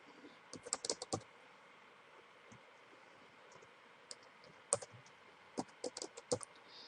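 Keys on a computer keyboard typed in short bursts while entering a password, quiet and close, with clicks clustered in a few quick runs and pauses between them.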